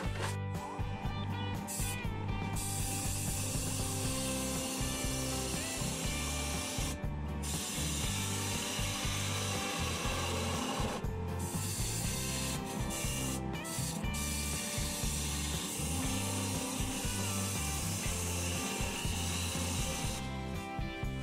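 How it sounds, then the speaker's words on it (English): Skew chisel making a peeling cut on a spinning cedar workpiece on a wood lathe, a steady rasping, scraping hiss with short pauses as the tool lifts off the wood, fairly quiet and without talk. "Now I'm going to use my skew chisel with a peeling cut to clean up this end and put a tenon on it."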